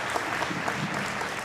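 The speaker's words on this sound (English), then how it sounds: "Let's give them another applause." An audience at a Martin Luther King Jr. celebration applauds in a brief, dense burst of clapping that holds steady and fairly faint throughout.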